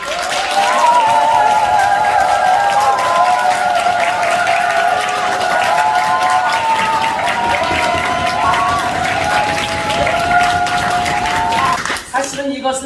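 Congregation applause and cheering fill a church service dedicating a new sanctuary, a dense sustained crowd sound carrying on loudly for about twelve seconds beneath tonal music or voices, then cutting off abruptly near the end.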